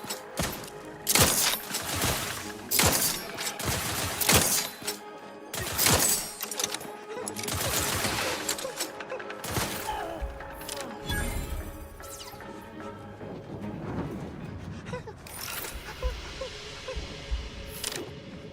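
Gunfire in The Outer Worlds 2, with repeated loud bursts and heavy impacts spread across the whole stretch, dense and chaotic with crashes between volleys and no pause for long.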